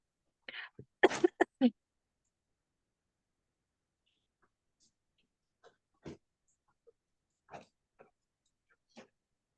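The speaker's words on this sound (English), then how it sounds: "Can I hear you cough, please?" A few short, sharp coughs in quick succession near the start, then quiet with scattered faint clicks and brief noises.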